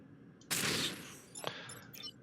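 A short, loud burst of gunfire from the turn-based strategy game Into The Breach, followed by a second sharper shot and faint metallic clatter trailing off, with no talk over it.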